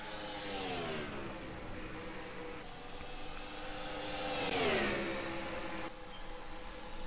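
Race cars in a NASCAR video game at Dover, several engines whining and droning at once, pitches rising and falling as cars pass, with one loud sweeping pass midway.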